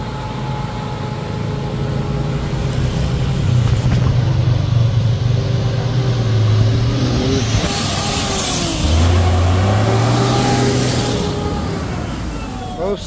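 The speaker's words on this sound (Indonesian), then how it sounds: "Kendaraan rame." Busy roadside traffic on a hillside road under repair, with cars and a long-distance passenger bus passing; engines rise and fall as vehicles pass nearby, with people talking over the steady noise.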